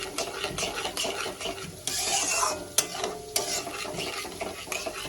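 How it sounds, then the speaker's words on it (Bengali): A spoon scrapes and stirs yogurt through spices in a hot pan, rhythmic rubbing strokes over a soft sizzle, with a few sharper utensil knocks against the pan; nobody speaks. "মশলার সঙ্গে মেশাতে থাকবো"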